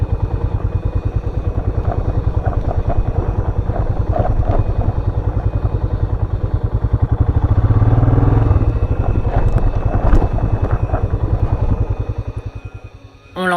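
Motorcycle loaded with 50 to 60 kilos of luggage riding over sand with its rear wheel sliding; a loud, close engine drones in a steady pulsing beat that swells midway and fades at the end.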